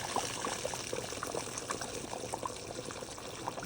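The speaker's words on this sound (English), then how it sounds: "So I can go ahead and put in my hot water to cook the meat now." Hot boiling water pours into a cooking pot of meat, a steady splashing trickle with bubbly, uneven gurgles, moderately close and without speech.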